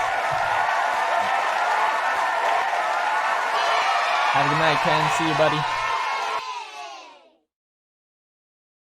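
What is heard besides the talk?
applause and cheering sound effect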